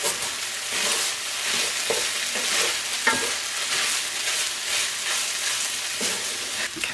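Food sizzling in a pan with a constant bright hiss, broken by a few spatula scrapes and soft knocks as it is stirred, close up and without speech.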